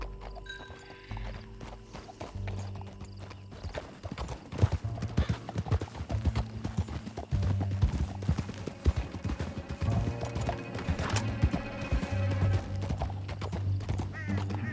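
Horse hooves galloping in Red Dead Redemption 2, a fast continuous clip-clop that builds and stays loud, with occasional neighs and snorts over a steady background.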